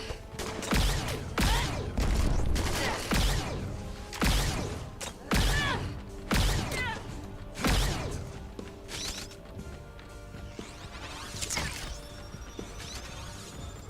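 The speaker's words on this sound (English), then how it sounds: "I just hit you with like a massive amount of missiles" Repeated missile impacts and explosions striking a tank in the video game G.I. Joe: Operation Blackout on Xbox One, a loud run of crashing thuds and blasts every second or so over a busy game soundscape.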